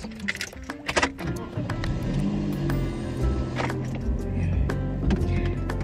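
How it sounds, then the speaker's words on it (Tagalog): A 2017 Toyota Vios engine idles while warming up, a steady low hum heard from inside the car, with a few clicks and clattering handling sounds near the start. "papainitin lang tong sasakyan saglit."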